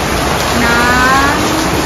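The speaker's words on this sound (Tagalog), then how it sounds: "Dahil grabe na ulan." Heavy rain pours steadily and loudly outdoors near a church during a St. Francis feast celebration, forming a dense continuous roar with no other sounds standing out.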